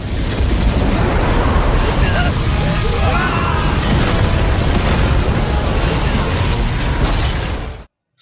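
A massive explosion from a level 9 laser cannon strike in the Soul Land 2 anime, a dense, loud roaring blast sustained for several seconds before cutting off abruptly.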